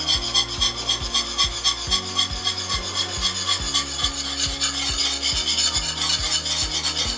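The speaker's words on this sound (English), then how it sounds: "So I will use my whisk to start stirring it with the flour in there" A whisk scrapes and rasps steadily through ugali flour in boiling water, a continuous close, loud stirring texture with a repeating rhythmic low thump underneath and no voices.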